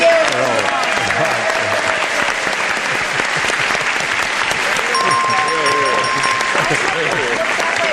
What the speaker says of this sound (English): Let's have a round of applause.